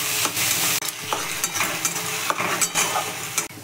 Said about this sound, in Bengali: পেঁয়াজটা খুব ভালো করে ভেজে নিই